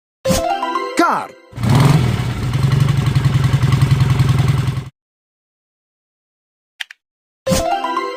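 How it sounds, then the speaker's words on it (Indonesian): Go-kart engine revving with a steady buzzing drone for about three seconds, loud and close, after a brief spoken word at the start, then silence before another short voice. "Kart."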